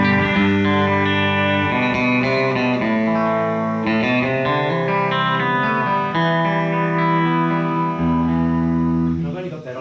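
A Fender Mini Bassman 1812 combo amp plays electric guitar with sustained chords and notes, a light reverb tail and some effect coloring, steady and fairly loud.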